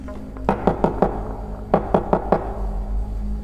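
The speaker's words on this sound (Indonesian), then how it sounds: "Lagi-lagi di sini ketukan kedua berbunyi" Knocking on a bedroom door: two close, loud bursts of four firm, evenly spaced raps, with a short pause between them.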